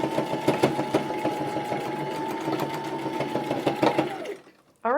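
A sewing machine runs a quarter-inch seam on a bandana headband, a fast, even mechanical whir and tapping close up that stops just before the end.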